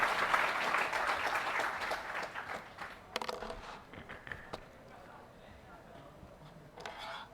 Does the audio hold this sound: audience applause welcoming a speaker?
yes